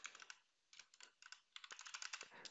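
Rapid keystrokes on a computer keyboard entering a terminal command on a Raspberry Pi, crisp close clicks in quick bursts separated by short pauses, no voices.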